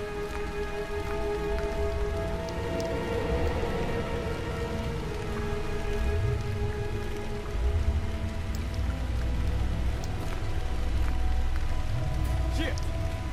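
Video game rain pours steadily with a dense, constant drop patter, mid-level and even, beneath low rumbling swells and faint tonal game sounds; someone's voice occasionally rises under the rain.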